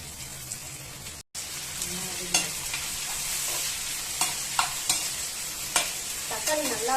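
Tomatoes sauté in a pan for a mutton leg curry, a steady close sizzle broken by several sharp scrapes and stirs of a spoon.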